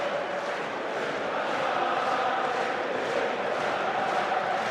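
Massed crowd at Anfield in front of the Kop applauding Liverpool players as Premier League champions, a steady, dense roar of clapping and cheering with no break.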